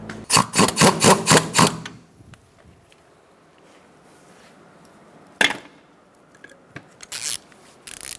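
Nut being snugged up on a 2004-2009 Mazda 3 steering rack: a quick run of close ratcheting clicks, then quiet, then a few sharper metallic clicks and a short second ratchet burst.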